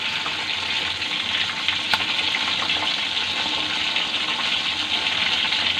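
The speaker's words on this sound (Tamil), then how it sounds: "மீடியம் ஃப்ளேம்லேயே பொறுமையாக பொரிச்சு எடுத்துக்கலாம்." Chicken 65 pieces deep-frying in hot oil over a medium flame, a steady close hiss and crackle of bubbling oil that holds even throughout, with no talking.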